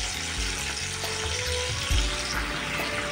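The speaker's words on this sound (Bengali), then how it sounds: "দিয়ে আমি হালকা করে মশলাটা কিন্তু ভেজে নেব" Spice paste with salt and turmeric sizzles gently in a pan, a soft, steady frying crackle with a few stirring scrapes and small clinks, fairly quiet and close, with no talking.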